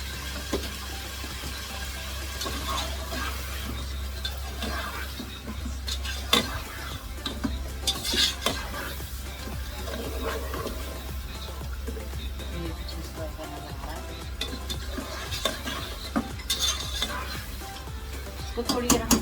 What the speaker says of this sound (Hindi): अब इसके अंदर हम ये मीट जो है वो मिक्स करेंगे